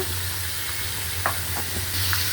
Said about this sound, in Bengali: মশলাটা একটু মিলাই দিই